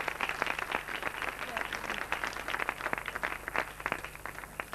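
Audience applause for Tariq sahib at a college founding-day gathering, with steady, fairly faint clapping from a crowd that carries on through the whole stretch.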